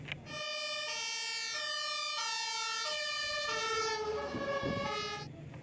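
A toy fire truck's electronic siren wails in a steady, loud, close warbling tone for several seconds, its pitch sweeping up and down, with no voices over it.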